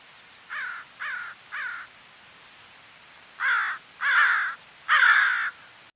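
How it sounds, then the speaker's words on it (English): A gang of crows passing through a beach plover nesting area caws in two bursts: three evenly spaced moderate caws, a pause, then three louder, harsher caws from closer, with no talking. "my camera caught this group of crows coming through one day"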